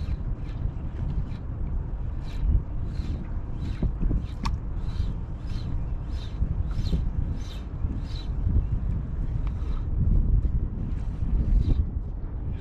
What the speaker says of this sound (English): I've got a bit of wind with me